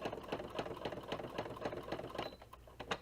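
A sewing machine stitches around a paper photo mat, a fast, steady mechanical chatter that runs close and loud throughout with slight pauses near the end.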